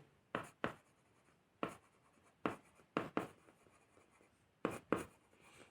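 Chalk tapping and scraping on a classroom board in a physics lesson, several short sharp strokes in uneven bursts, close and clear against a quiet room with no talk.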